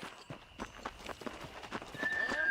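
Horse in the Red Dead Redemption video game, steady clip-clop hoofbeats at a walking pace with an occasional whinny, moderately close and quiet, ending with a brief rising tone.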